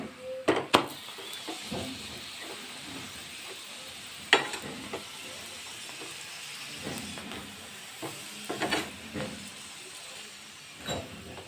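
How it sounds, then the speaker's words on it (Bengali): A radish paratha fries in a pan, giving a faint, steady sizzle with scattered soft scraping and clinks of a spatula turning it, with no voices. "ভেজে নিতে হবে ভাজার সঙ্গে সঙ্গে লাল হয়ে যায় ঠিকই"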